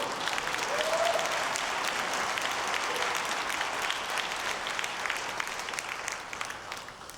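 A church congregation applauding in a sanctuary, a dense, steady wash of many hands clapping at moderate distance that holds for several seconds and then gradually tapers off.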